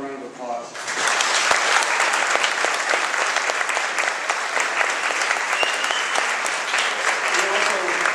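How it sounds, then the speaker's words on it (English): Loud, sustained applause from a crowd honoring elementary school students after their ukulele performance, starting abruptly after a brief moment of talk and holding steady through the end. "let's give them one more round of applause"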